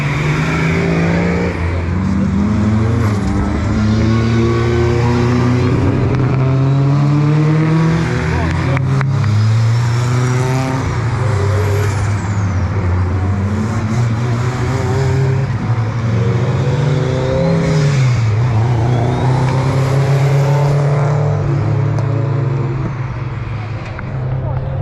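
Club two-wheel and four-wheel drive class race cars lap Cadwell Park in a time attack final, engines droning loud and continuous with rising and falling revs as they accelerate and shift, while a commentator talks over them.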